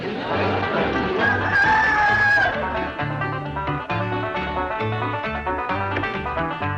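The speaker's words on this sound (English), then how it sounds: "Go ahead and crow. I know it's your job." A rooster crows loudly several times in a rural morning scene, its strained calls rising over a bouncy background music track.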